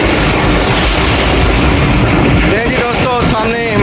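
A passenger train on a Pakistani railway line near Hyderabad rumbles loudly and continuously, with rhythmic wheel clatter on the rails and a voice briefly audible over it toward the end.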